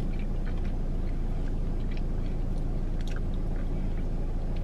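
Close chewing of fast food, soft crunching and squishy bites repeating in an uneven rhythm over a steady low hiss.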